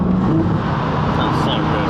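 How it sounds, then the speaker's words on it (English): A Ferrari engine roars steadily and loudly from close by, a dense, sustained rumble with no break across the short stretch. "Ferrari, listen to that."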